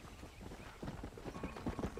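Horse hooves clip-clop at a steady trotting rhythm in the video game Red Dead Redemption, a quick run of soft thuds that stays faint and even throughout.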